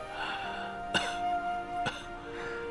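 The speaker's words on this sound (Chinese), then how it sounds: "秋水掌门似乎总是咳嗽，可是着凉了？" A wuxia drama martial-arts sect leader with a long-standing chronic cough coughs twice in sharp, separate bursts over a steady background music bed, no speech between them.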